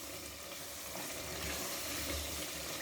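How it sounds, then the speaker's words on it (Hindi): Boneless chicken karahi masala frying in a karahi, a steady close sizzle with stirring scrapes throughout, faint and continuous with no voices. "इसको हमने बस इसको भूनना है"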